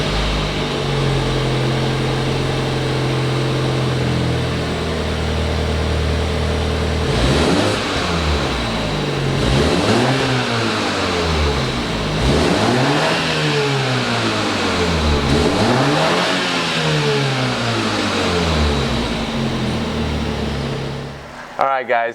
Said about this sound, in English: Let's go ahead and fire up the new Z4.